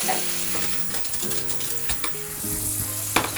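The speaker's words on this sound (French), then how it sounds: "On ne recherche pas vraiment une cuisson, c'est juste poêlage rapide." Grapes with almonds and hazelnuts sizzle in a hot pan with a steady crackling hiss, broken by sharp clicks and scrapes of stirring; close and fairly loud, with no voices.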